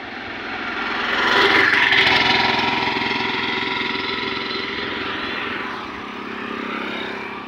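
A Hero Super Splendor BS6 motorcycle engine runs with a steady close drone that swells after the first second and then holds, no talk over it.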